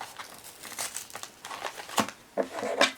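Tokidoki Unicorno x Hello Kitty blind box packaging is opened with close, crisp crinkling and tearing of plastic foil and cardboard in irregular bursts.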